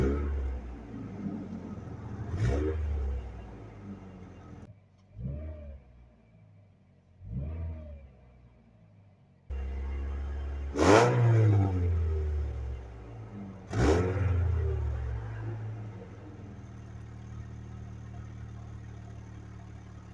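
A 2007 Saturn Ion engine, just fitted with a new throttle, revs in several short bursts separated by quieter idle stretches, with two sharp, loud surges near the end before it settles back to a steady idle.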